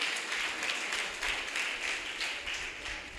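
A college audience at a cultural quiz competition applauds a correct answer. The clapping comes from many hands and is fairly faint, keeping up a steady, even patter for a few seconds.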